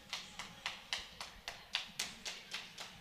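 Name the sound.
crowd clapping at a youth hockey game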